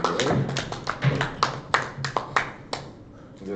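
Applause breaks out at a Mafia World Cup finals table, a string of sharp, uneven claps close by that thin out toward the end, with a voice speaking over part of it.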